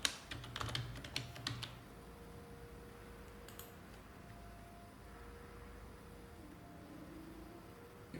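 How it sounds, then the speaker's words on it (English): A quick burst of keyboard typing, close and clear, several rapid keystrokes, then a lone click later over a quiet room hum. "Here I am typing the bucket."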